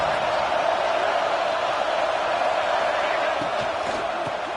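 A stadium crowd roars in College Football 26 as the home defense tries to force a red zone stop against Notre Dame, a steady, dense wall of cheering that holds for the whole stretch with no voices above it.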